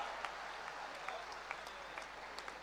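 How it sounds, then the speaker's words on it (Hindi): Audience applause at a sports honour ceremony for Tokyo Olympic athletes, a steady, fairly faint wash of many hands clapping with scattered sharper claps throughout. "सारा दिन तालियां बजाते रहेंगे आप।"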